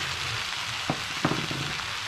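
Dried bay leaves and smoked paprika sizzle in a pan for chicken Basque, a soft, steady frying hiss with two brief clicks of a utensil against the pan.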